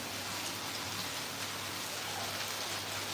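Heavy rain falling steadily outdoors in Dhuri, Punjab, a dense continuous hiss of drops with no break and no voices over it.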